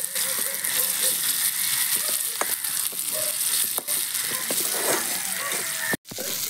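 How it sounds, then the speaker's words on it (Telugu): Ginger garlic paste frying in a pan, a steady close sizzle and crackle throughout, with occasional scraping and clicking from stirring. "అల్లం వెల్లుల్లి పేస్ట్ ఏమో బాగా వేగుతుంది, పచ్చివాసన పోయింది."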